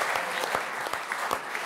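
Audience applause from a crowd, steady hand claps filling the whole stretch with a few sharper individual claps standing out near the front, continuous and fairly loud with no talking.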